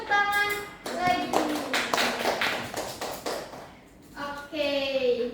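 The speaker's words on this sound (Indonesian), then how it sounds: "Beri tepuk tangan lagi." A room of grade 12 high school students bursts into a round of lively applause, loud and near, with young voices cheering and talking over the clapping before and after.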